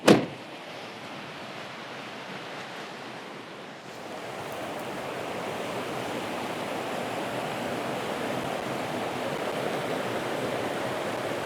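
Steady rushing water of a river flowing past the bank, a continuous broadband wash that swells slightly louder after a few seconds and then holds evenly, close by with no voices.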